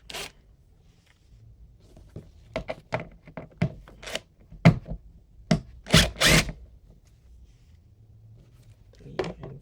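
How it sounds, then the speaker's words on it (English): Small screws being undone from suitcase wheel castors with a hand tool, giving a run of sharp clicks, taps and short rattles close by, with soft sounds of handling between them. "Get all 4 screws out."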